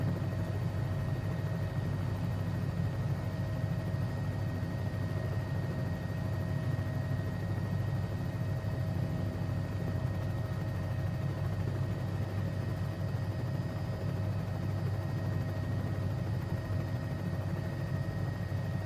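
Bell 206B3 helicopter hovering in a flight simulator, a steady, even rotor and engine drone that holds unchanged and alone from start to end.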